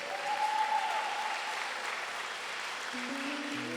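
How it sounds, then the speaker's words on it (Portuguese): A church congregation at Igreja Vitória applauds, a broad, sustained wash of many hands clapping together at steady volume, with faint tonal sounds near the end. "Você pode aplaudir ao Senhor em nome de Jesus"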